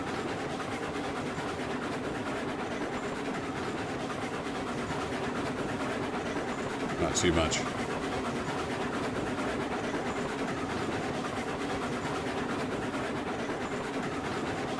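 Cooke Mogul steam locomotive pulling thirteen cars along the track in Railroads Online, a steady rolling rumble and rail noise with one brief sharper clank midway, while a voice speaks briefly.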